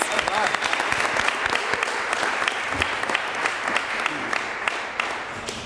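At a county school board meeting, an audience gives a round of applause: continuous, busy clapping from a roomful of people, moderately loud and steady, with a few voices underneath.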